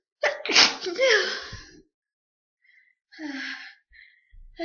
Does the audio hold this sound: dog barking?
no